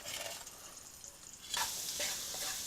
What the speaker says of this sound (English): You start by browning your garlic first.